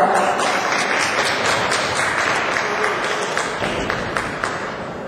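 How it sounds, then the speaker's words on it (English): A round of applause from an audience at a program honoring a baton twirler, steady and full with many hands clapping together, slowly easing off. "Give her a round of applause."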